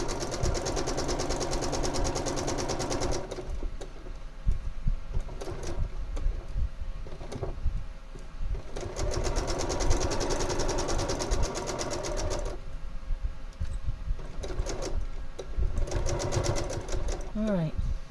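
Sewing machine stitching a quilt block, a fast, continuous mechanical whir and rattle that pauses and restarts several times, with someone speaking alongside.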